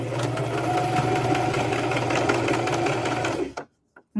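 A sewing machine stitching fabric up to a marked point, a loud continuous whirring hum close by that stops abruptly near the end, followed by a couple of faint clicks.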